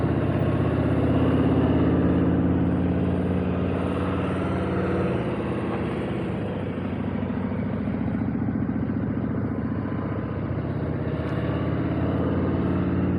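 A motorcycle engine runs at slow riding speed with smooth, even throttle during advanced slow-speed riding practice, giving a steady, moderately loud drone that barely varies throughout, with no talking.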